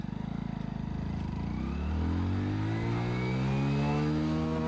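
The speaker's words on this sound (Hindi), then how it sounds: "बस फर्स्ट गियर में बाइक 30 की स्पीड में चल रही है" A Hero Splendor Plus motorcycle engine climbs from a low thrum to a higher steady drone as it accelerates in first gear, close and continuous.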